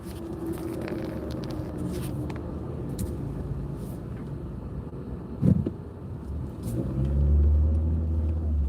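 Car traffic flows along a New York City street, with a continuous rumble of passing vehicles, a sharp knock midway and a louder engine swelling near the end.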